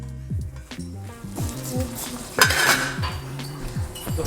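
A metal lid clanks onto a pan of sautéed chicken liver, with a few clinks and scrapes of cookware, close and fairly loud, with faint frying underneath.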